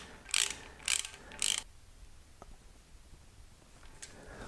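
A socket wrench with a 15 millimeter socket ratchets a pipe plug into an Olds 455 engine block, three short close bursts of ratchet clicks, then a quiet pause and a faint final click.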